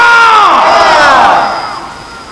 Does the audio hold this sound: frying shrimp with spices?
no